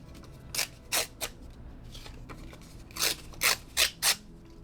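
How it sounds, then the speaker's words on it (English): Scrap paper is ripped by hand close by in short, crisp tears, a few at first and then a quicker burst of four or five, over a quiet background. "So I'm gonna tear off that bottom portion and then the top portion. I'm gonna rip it just like that."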